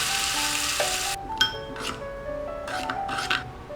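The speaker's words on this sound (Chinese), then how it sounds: "用热油泼出香味儿" Hot oil is poured over minced garlic, chili powder and salt in a bowl and crackles into a loud, close sizzle. The sizzle cuts off after about a second, followed by a few light clinks and scrapes of dishware.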